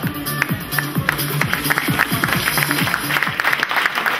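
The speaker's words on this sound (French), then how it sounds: "Applaudissons-le chaleureusement pour ce très beau parcours et ses 20 ans de création d'entreprise" An audience at a company's 20th-anniversary film screening claps warmly, a steady dense burst of many hands with individual claps standing out, sustained throughout at close range.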